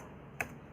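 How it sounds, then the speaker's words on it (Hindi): A single quick click of a key being pressed on a computer keyboard during a Word typing lesson, short and fairly faint against a quiet room hiss. "जब भी हम कोई टाइप करते हैं, जैसे मैंने टाइप किया"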